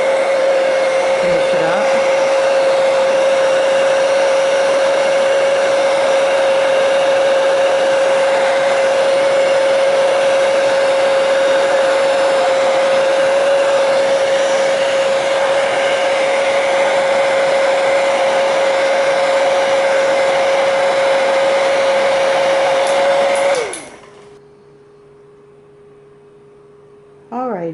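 Heat gun blowing hot air to dry DecoArt Weathered Wood Crackle Medium, a loud steady whine with a constant tone running for over twenty seconds before cutting off abruptly, with brief speech near the end.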